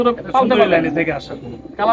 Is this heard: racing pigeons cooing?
yes